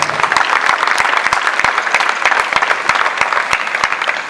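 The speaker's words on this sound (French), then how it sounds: "Et Cassandre, applaudissements aussi pour Cassandre." A student-run fashion show audience claps steadily for a presenter, a dense, lively round of hand claps filling the room from start to finish with no voices over it.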